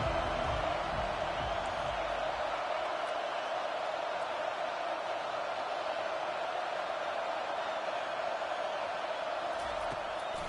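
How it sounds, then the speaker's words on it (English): A home crowd at an NC State football game roars steadily on a third down, a continuous distant wash of cheering and noise that stays level throughout with no clear peaks. "Here comes this home crowd as the defense tries to get off the field on third down."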